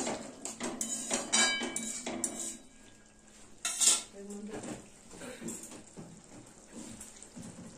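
Potato curry with coriander being stirred in a pan brings repeated metal scrapes and clanks of a spoon against the pan, irregular and close, with quieter stretches between the strokes.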